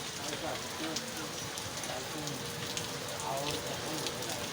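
Sudden rain pours on a city street in Mymensingh, a constant close patter and hiss of drops on the ground, with faint voices murmuring underneath.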